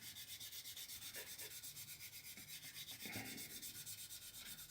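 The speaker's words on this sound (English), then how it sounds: "put the sander on the model, and that's it" A power sander smooths a Mitsubishi Zero scale model with no pressure applied, giving a faint, even rubbing hiss with a quick steady pulse that continues throughout.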